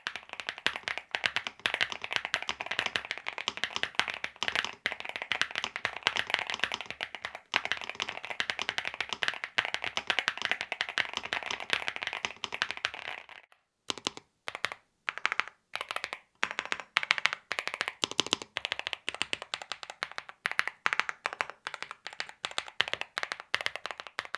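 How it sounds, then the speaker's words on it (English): Rapid, continuous clicking keystrokes on a NuPhy Halo 75 V2 mechanical keyboard, dense typing for about half the time, then sparser individual key presses with small gaps. "Here's a quick typing test for reference."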